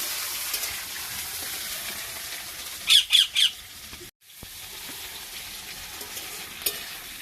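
Food frying in a pan during village cooking, a constant hissing sizzle with a quick run of three sharp clinks partway through and a brief dropout before the sizzle resumes.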